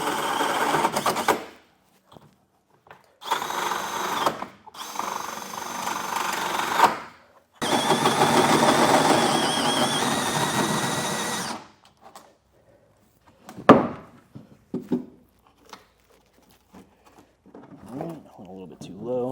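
A power drill bores a hole through a 2025 truck bed for a Curt custom underbed OEM-style gooseneck hitch, whirring in several long, steady runs separated by pauses, followed by scattered clicks and knocks.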